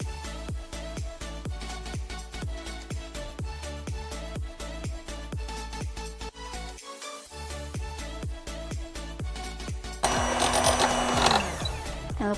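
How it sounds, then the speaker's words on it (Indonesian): An electric mixer beats butter for a second batch of coconut cake batter, a steady mechanical whir with fast regular clicking pulses throughout, close and alone, its tone shifting near the end. "Nah, ini untuk adonan kedua, kita akan mixer menteganya ya."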